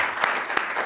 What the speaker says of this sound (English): Can we have a round of applause for Stephen